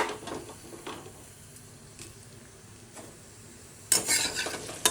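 Whole cumin seeds and dried red chillies crackle in hot oil for paneer with moong dal, a soft steady sizzle with occasional utensil scrapes, then a louder burst of spitting near the end.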